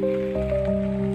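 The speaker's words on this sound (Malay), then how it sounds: "hujan." Steady rain falls on a surface outdoors, a continuous wash of patter under a sustained tonal hum with no pauses.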